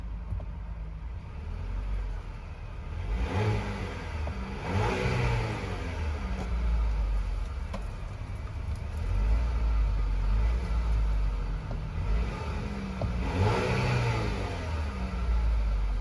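A 2026 Chevrolet Traverse High Country engine revs several times from inside the cabin, each rise bringing a whine over a deep rumble, with steady engine noise between the swells and no talking.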